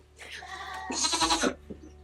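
A goat lets out a loud, close bleat during milking, a strained vocal call that swells mid-clip and then breaks off, followed by a short quieter bleat near the end.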